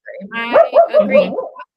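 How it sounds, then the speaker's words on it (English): A dog standing at a window barks about four times in quick succession, close and loud, a short burst of sharp woofs. "Now my dog's barking."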